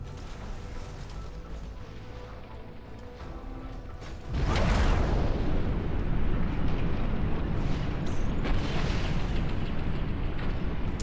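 Missiles striking and exploding in the mech strategy game Phantom Brigade: a low mechanical rumble gives way to a sudden heavy blast, followed by a long, loud roaring wash of debris and fire.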